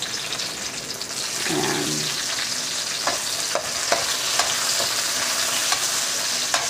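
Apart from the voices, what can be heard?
onion and tomato being sautéed in a pan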